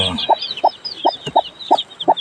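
Newly hatched native chicks in a brooding pen peep in quick, high chirps, over a steady run of about six low, evenly spaced clucks, all close and fairly quiet.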